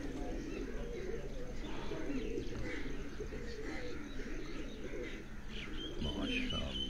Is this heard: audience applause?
no